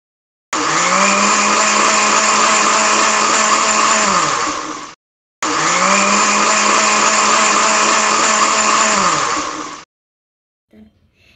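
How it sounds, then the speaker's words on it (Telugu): A kitchen mixer grinder blends chopped fruit pieces for ABC juice, giving two loud, steady whirring bursts of about four seconds each, separated by a short pause, then a few faint clinks. "మిక్సీ జార్ క్యాప్ పెట్టేసాక మిక్సీ మీద పెట్టి మిక్సీ ఆన్ చేయండి"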